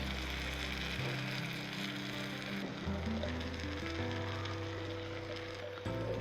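Mushrooms tumble into a hot pan for a mushroom pepper fry, setting off a loud, steady sizzle with crackling bursts that shift in tone as pieces land, continuous and close throughout with no talking.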